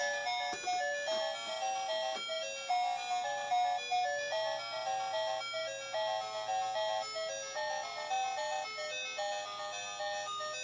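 A tinny, looping electronic melody, the NES Friday the 13th game theme, plays from a small speaker in a Jason Voorhees action figure, faint and thin with a steady repeating tune.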